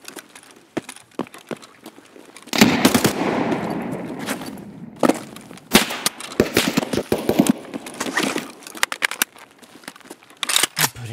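Gunfire crackles in Escape From Tarkov: loud, close shots in rapid bursts and single cracks scattered across the span, with one longer sustained stretch of fire near the start.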